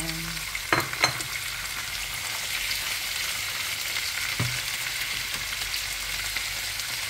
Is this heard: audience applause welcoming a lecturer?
no